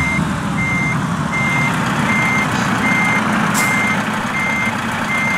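A truck's reversing alarm in Euro Truck Simulator 2 beeps at a steady, regular rhythm, about every second, over the deep, constant rumble of the idling engine.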